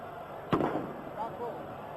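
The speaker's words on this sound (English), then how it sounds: "A few firecrackers still exploding around us from the Spanish fans" A firecracker set off by Spanish fans bursts in a stadium crowd during the 1980 Cup Winners' Cup final between Arsenal and Valencia: one sharp crack amid the crowd roar, with a commentator speaking over it.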